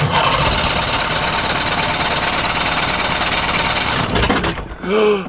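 A 63-year-old abandoned Toledo Torpedo boat engine cranks and sputters loudly in a rapid, continuous chatter for about four seconds without catching. Then it cuts out and leaves a short whirring tail.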